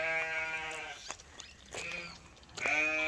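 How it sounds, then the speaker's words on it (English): Freshly shorn sheep bleating at feeding time on a farm, several loud wavering calls nearby, overlapping and separated by brief quieter gaps. "All right, time to feed the sheep. Beware all, it's about to get loud."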